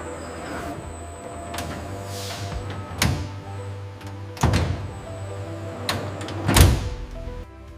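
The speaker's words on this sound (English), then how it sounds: "Once loaded, the dryer door is securely latched to begin the dehydration process." An industrial dryer door in a mango processing factory is shut and latched, giving several heavy metallic thunks and clanks spread across the clip over a steady machinery drone.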